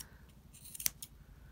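Scissors make a few quick snips trimming a fabric edge while assembling a handmade advent calendar box, with one sharp cut standing out among fainter clicks in a quiet room.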